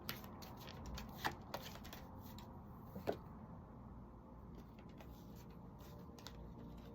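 Oracle cards are shuffled by hand in a quiet room, soft riffling and a few sharper card snaps at irregular moments, faint and close, with no talking.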